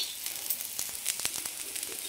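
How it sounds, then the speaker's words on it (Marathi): Dried coconut roasting in a pan for a spicy village-style river fish curry, giving a steady soft sizzle with faint scraping stirs, close and alone. "लगेच खोबरं पण भाजून घ्यायचं।"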